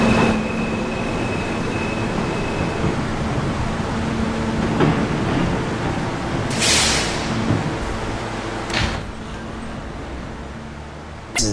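A subway D train runs between stations: steady rumbling roar of wheels on track inside the car, a faint tone early on, and sharp rattling bursts and clanks later as the car jolts along.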